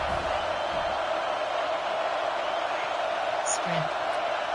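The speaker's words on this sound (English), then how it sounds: "Decibels rising as the crowd gets behind this defense on 3rd down." Stadium crowd at a football game on a third-down defensive play, a dense steady roar of many voices filling the air, loud and continuous without clear swells or breaks.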